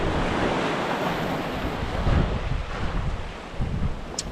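Sea waves break on the shore at Hopton on Sea, with strong wind buffeting the microphone. A loud, continuous wash of surf and gusts goes on throughout, and no one speaks.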